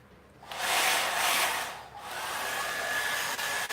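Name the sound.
hairdryer blowing hot air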